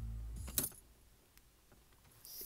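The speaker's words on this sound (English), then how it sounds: "Now I will turn off the car, take out the car keys." Car keys jingle briefly as they are pulled from the ignition, a quick metallic rattle after the engine cuts off, followed by faint quiet and a small click near the end.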